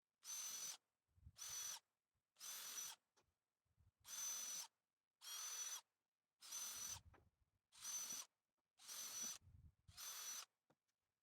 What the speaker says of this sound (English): I'll drill 3 holes to put 3 screws through.